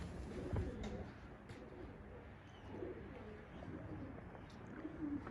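Pigeons coo softly and repeatedly nearby at a pigeon café in Gaziantep, over a low outdoor rumble, their throaty calls rising and falling.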